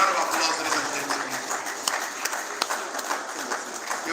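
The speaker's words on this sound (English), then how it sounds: "A round of applause, ladies and gentlemen." A conference crowd at a builders' gathering in Nigeria applauds to welcome a speaker, a loud, continuous roll of clapping that eases slightly while staying dense, with a few sharper individual claps standing out.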